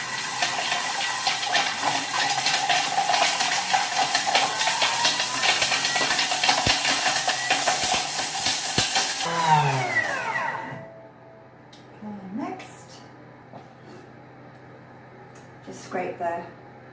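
A food processor whirs at top speed 10, blending warm spices in a loud, steady roar for about ten seconds before cutting off abruptly, followed by quieter clatter and a voice talking.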